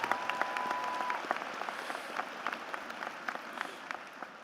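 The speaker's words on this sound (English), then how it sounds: "Can we have another round of applause for Mason and the outstanding job he did" A high school graduation audience applauds steadily, with moderately distant, even clapping and a brief tone near the start.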